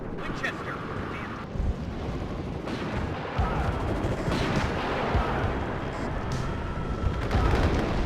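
Dense, continuous battlefield rumble from the WARNO strategy game, with gunfire and heavy tank cannon fire against Chieftain tanks and a Bradley blending into a loud, steady roar, while a voice talks over it.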